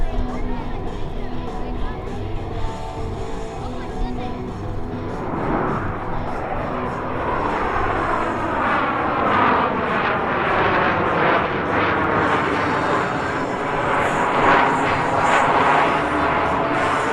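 U.S. Navy Blue Angels F-18 jets flying the Diamond Dirty Roll at an outdoor airshow, a loud continuous jet roar that swells as the formation passes overhead, with faint crowd murmur beneath.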